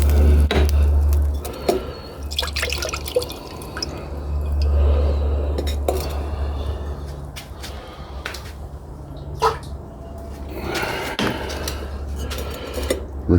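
Rinsing gold in a container during refining: liquid sloshing and dripping with clinks against the vessel, intermittent splashes and pours over a quiet background.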